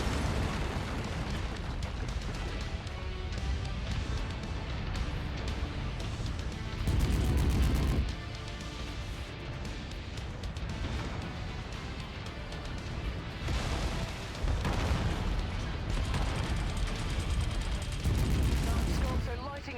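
Heavy, continuous critical engine explosion rumble from MechWarrior 5: Mercenaries, loud and dense, swelling into several booming bursts over the stretch.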